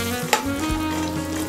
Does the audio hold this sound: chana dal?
yes